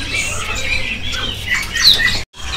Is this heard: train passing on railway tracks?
no